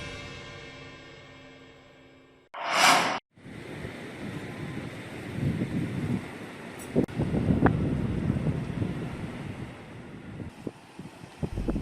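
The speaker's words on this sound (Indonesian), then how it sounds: "Ombak besar serta angin kencang terus terjadi hingga seminggu ke depan." Large waves and strong wind batter the sea off Jembrana in bad weather, a steady roar of surf with gusty wind buffeting the microphone, preceded by a brief sharp burst.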